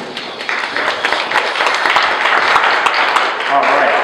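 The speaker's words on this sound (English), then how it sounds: "Everybody give Barbara a round of applause." A class audience at a diabetes cooking demonstration gives a round of applause for a participant, a dense, even wash of clapping filling the room for several seconds, with voices mingled in.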